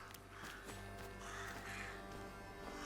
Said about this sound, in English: Not more crows.